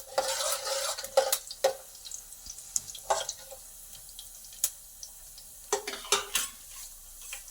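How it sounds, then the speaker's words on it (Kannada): Urad dal fries in a pan with bursts of crackling sizzle and a spoon scraping and stirring in short, irregular strokes, close and moderately loud, with quieter gaps between. "1 ಟೇಬಲ್ ಸ್ಪೂನ್ ಉದ್ದಿನಬೇಳೆ, ಸ್ವಲ್ಪ ಫ್ರೈ ಆಗಲಿ ಅದು."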